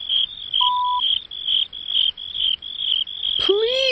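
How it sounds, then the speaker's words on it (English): Crickets chirping loudly during a reading of a children's story, with steady rapid bursts of shrill, high chirps in quick succession, one brief electronic beep early on and a swooping tone near the end. "So the 10 crickets chirped very loud."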